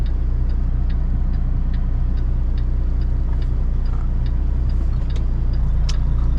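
A pickup truck rolls past on a narrow road, its low engine rumble steady and close throughout, with faint ticking over the drone.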